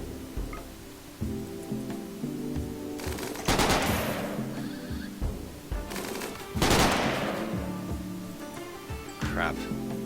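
Bursts of automatic gunfire in the colony-survival game RimWorld, two dense volleys rattling out over steady background game audio and music, with a few lighter shots trailing near the end.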